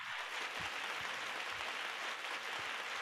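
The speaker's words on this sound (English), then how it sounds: "And let's give her a big round of applause, Sharon, for doing that." A canned applause sound effect from a button plays as a short, steady burst of clapping, faint and even throughout.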